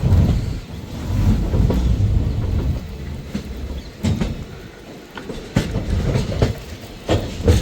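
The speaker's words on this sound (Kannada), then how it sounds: "ಪರವಾಗಿಲ್ಲ ಫ್ರೆಂಡ್ಸ್, ಟ್ರೈನ್ ಪಿಕಪ್ ಮಾಡ್ಕೊತ ಸ್ಪೀಡು" Intercity train leaving Mysuru and picking up speed, continuous rolling rumble from onboard with repeated rhythmic wheel clacks over rail joints, moderately loud and unbroken by voices.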